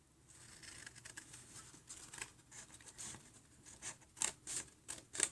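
Close, crisp snips of scissors cutting through paper, faint at first, then a quick run of sharper cuts near the end, with no voices.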